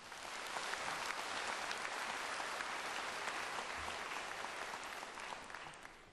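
Steady applause from a large audience at an awards ceremony, dense and sustained for several seconds before tapering off slightly at the end.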